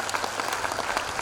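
Congregation clapping at a Christian worship service, a steady wash of many hands applauding together, moderately loud and continuous with no talk.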